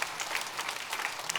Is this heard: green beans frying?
no